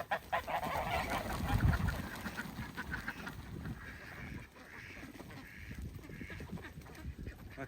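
A flock of farm geese honks loudly and continuously, a dense overlapping clamor that fills the whole stretch with ducks among them.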